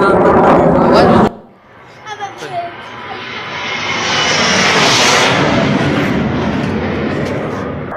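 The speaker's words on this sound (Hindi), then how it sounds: "पाकिस्तान के शहरों में जो जेट्स हैं वो उड़ान भरते हुए नजर आए हैं" JF-17 and F-16 fighter jets fly over Pakistani cities. After a short loud burst that cuts off, a broad jet roar builds and swells, stays strong and then slowly eases.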